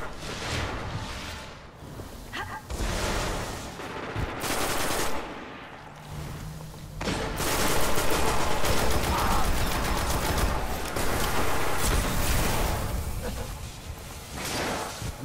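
Automatic rifle fire in a competitive video game, sustained bursts of rapid shots mixed with game effects and whooshes, loud and dense, with brief quieter gaps early on before continuous firing.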